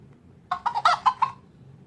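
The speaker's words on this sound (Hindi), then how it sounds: "ये मुर्गी" Chicken clucking from an animal sound effects app plays as a quick run of five or six sharp clucks lasting about a second, clear and close over a quiet background hiss.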